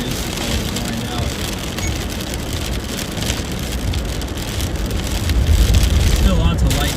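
Steady, heavy rain falls during a Kansas lightning storm, a dense unbroken patter that stays loud throughout and swells slightly near the end.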